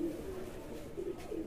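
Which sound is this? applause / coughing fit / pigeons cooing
pigeons cooing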